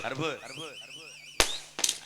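Firecrackers go off in two sharp, loud bangs about half a second apart, right after someone speaks.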